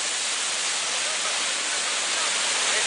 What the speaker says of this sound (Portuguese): É mais uma das cachoeiras aqui do Sobe e Desce.